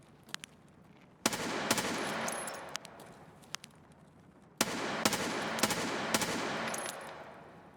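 Video game gunfire aimed at an enemy: loud bursts of rapid shots in two long stretches, with sharp single cracks in between and quieter gaps.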